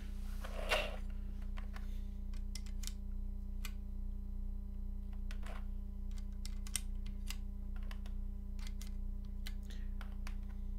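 GMK Chocolatier keycaps being pressed onto a keyboard, with scattered light plastic clicks and taps at irregular intervals over a steady low electrical hum, fairly quiet and close.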